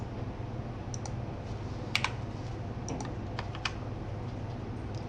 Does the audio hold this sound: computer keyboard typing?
yes